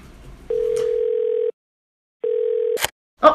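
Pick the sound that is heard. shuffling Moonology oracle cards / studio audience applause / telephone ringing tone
telephone ringing tone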